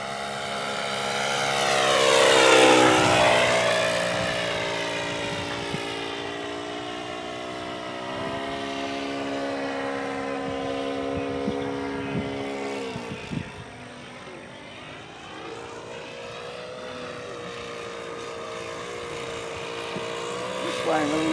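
A small engine on a Goldberg Super Chipmunk model airplane drones overhead in flight with a buzzing whine that rises, fades and shifts pitch as it passes, while people talk nearby.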